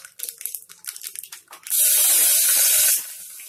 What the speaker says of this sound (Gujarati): અને પાણી નાખી દઈશું.